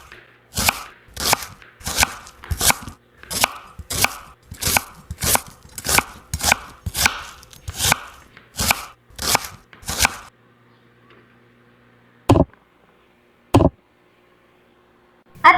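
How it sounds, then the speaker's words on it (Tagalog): A knife chops bottle gourd (upo) on a board in a steady run of about fifteen crisp, evenly spaced thuds, then stops, followed by two isolated chops after a quiet pause. "Continue nga lang ako sa paghiwa para maluto ko na ito."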